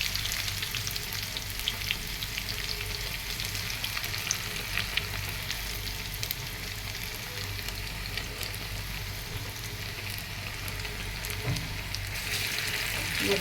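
Garlic fries in hot oil with large, mild dried red chilies as a tempering for greens, giving a continuous close sizzle and crackle with steady intensity and no talking.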